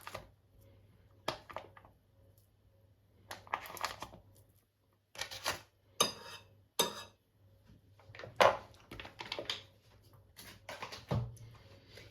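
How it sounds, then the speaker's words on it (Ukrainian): Intermittent scraping and clinking of a utensil against a bowl while mixing softened butter with cheese, in short bursts with pauses between, fairly quiet with no talking. "тепер гарно-гарно вимішуємо масло разом з сиром"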